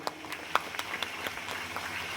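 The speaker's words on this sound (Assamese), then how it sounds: "মই বিচাৰোঁ তেখেতৰ কাৰণে একবাৰ জবৰদস্ত তালি হ'ব লাগে" An audience claps for a company owner, a modest scattered patter of separate hand claps, moderately close and fairly quiet, with no voices over it.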